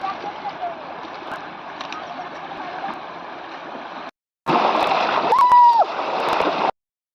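Clothes are washed by hand in a river, sending splashing and churning water over a steady flowing background. The sound breaks off briefly, then returns louder, with a thin whistle-like tone near the end.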